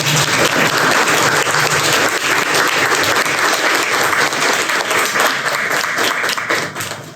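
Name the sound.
audience applause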